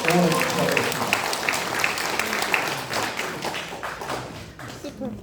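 Audience applause at a Korean book talk and signing event, a full burst of crowd clapping that starts strong and gradually thins out, with some voices mixed in.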